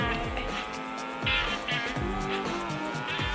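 Motorbike engine in the video game GTA San Andreas, a buzzy, revving motor drone with shifting pitch and occasional tire squeal, moderately quiet and continuous.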